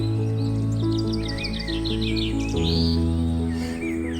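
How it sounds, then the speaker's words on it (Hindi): A cartoon sparrow chirps cheerfully in a quick run of high tweets from a big tree, set against sustained musical backing tones. "एक बड़े दरख्त पर चिड़िया खुशी खुशी चहचहा रही थी।"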